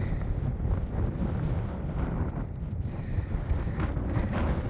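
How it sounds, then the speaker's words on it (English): Strong wind blasts across a mountain trail on the San Diego Trans-County Trail, a loud, continuous roar buffeting the microphone with no voices. "very windy"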